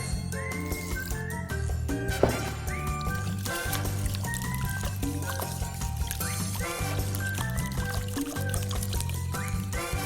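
Water pours steadily into a container while making fried chicken, the gurgling pitch rising as it fills, continuous throughout.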